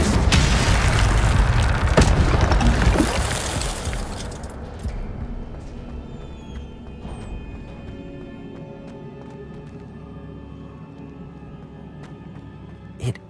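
A fire spell, Incendio, cast in Hogwarts Legacy: a loud whooshing burst with a boom in the first few seconds, fading into a quieter crackling tail with faint magical chimes.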